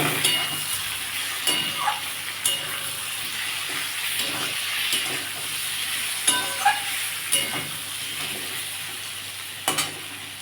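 Ginger-garlic paste frying in a pan with potatoes, onion and tomato, giving a steady close sizzle with occasional stirring scrapes and light clinks of a utensil against the pan.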